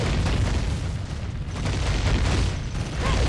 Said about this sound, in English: Or rather, it does explode